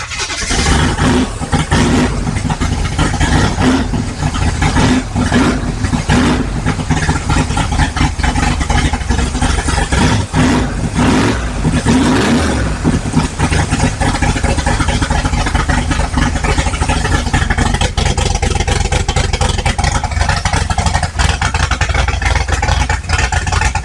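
A 1955 Chevy big block engine runs loud and close, rough idle punctuated by repeated revs and throttle blips over a continuous rumbling drone.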